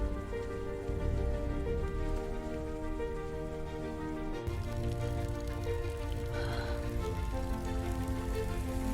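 Heavy rain pours down in a steady, unbroken wash, with a sustained tonal background layered underneath throughout.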